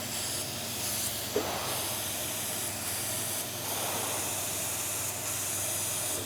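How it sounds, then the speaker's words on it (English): Paint spray gun set to a narrow fan pattern, hissing steadily and continuously at close range, with brief pauses and a small click partway through. "Now I can spray."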